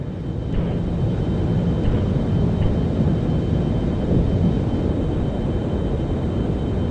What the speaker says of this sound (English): So right now, it's actually just going to do its vertical takeoff.